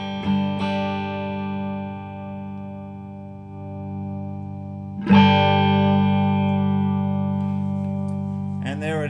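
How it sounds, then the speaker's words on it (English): A homebrew valve tube amplifier turned up to high volume, sustained chords ringing with a shimmery top end, a fresh strum near five seconds, loud and close with no talking. "that's the tone of the amplifier"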